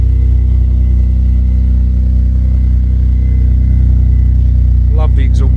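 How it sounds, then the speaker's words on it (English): Vauxhall Vectra GSi engine breathing through a Magnex stainless steel catback exhaust with a sports cat, a loud, steady low drone that holds evenly throughout, with a brief higher rising sound near the end. "Love the exhaust note on this car."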